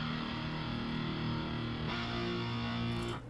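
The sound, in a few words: power chord synth sound from FL Studio Flex plugin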